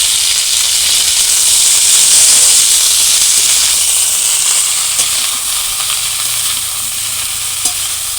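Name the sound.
cauliflower frying and sizzling in a pan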